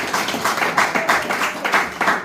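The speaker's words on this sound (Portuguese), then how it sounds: "Uma salva de palmas para Jesus, que Ele merece." A church congregation applauds, with a dense run of overlapping hand claps in pulsing bursts, moderately loud and close, with no speech over it.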